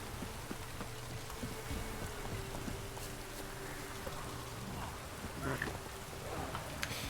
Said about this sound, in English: Oh, it's drizzling.